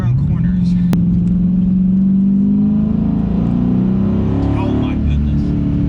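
A 2016 Dodge Challenger Super Bee being driven through corners, its engine droning loud and close with a rising, sustained note as it accelerates, and a voice heard over the engine.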